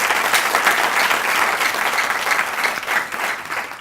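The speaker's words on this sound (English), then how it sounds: "let's give her a round of applause" Loud, dense applause from an audience at a university professorial inauguration, a full sustained wash of many hands clapping at once for nearly four seconds.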